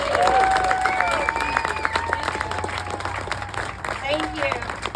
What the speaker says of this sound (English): So please give a huge, huge, huge round of applause to all the volunteers